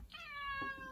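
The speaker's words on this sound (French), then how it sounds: "Quoi le chat encore?" A house cat lets out one long, drawn-out meow close by in a home kitchen, clear and alone with no talking.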